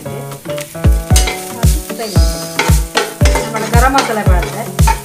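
Cloves, cashews and spices fry in a little oil for paneer tikka masala, making a loud, close sizzle broken by rhythmic stirring scrapes and knocks of the spoon against the pan about twice a second.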